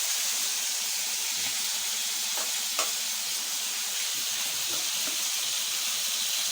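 Sausage with onion fries in a pan, giving a steady bright sizzle and hiss throughout with occasional soft stirring clicks.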